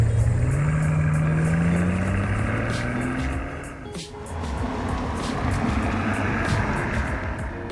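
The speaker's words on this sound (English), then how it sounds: "all that you notice different about this particular SL is the funny whirring sound of the starter motor" The starter motor of a 2005 Mercedes-Benz SL65 AMG gives a rising whir for a few seconds, then the engine catches into a steady, close, smooth rumble.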